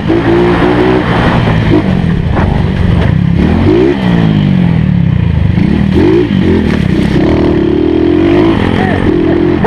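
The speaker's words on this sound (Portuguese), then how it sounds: "Acelerando forte." A dirt bike engine revs hard and loud on a trail, rising and falling in pitch as the rider accelerates, with clattering and scraping over the rough ground.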